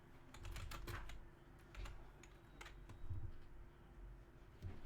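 Keys clatter on a computer keyboard in quick irregular bursts of taps, near and fairly soft, over a steady low background hum.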